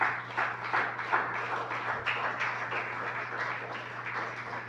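A church congregation applauds with a sustained, moderately distant wash of clapping over a low steady hum.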